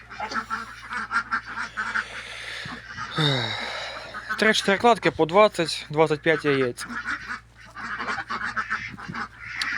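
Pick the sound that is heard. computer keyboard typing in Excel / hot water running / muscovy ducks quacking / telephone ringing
muscovy ducks quacking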